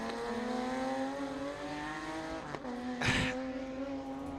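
Drift cars at a pro-am drifting competition accelerate with a sustained high engine whine, heard at a distance, followed by a brief burst of tire squeal near the end.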